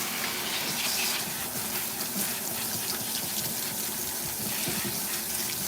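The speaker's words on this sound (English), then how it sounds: "we're gonna rinse her with cool water" Tap water runs steadily while cool water rinses relaxer out of a girl's hair, a continuous splashing gush with small shifts as the stream hits hair and sink, and no talking.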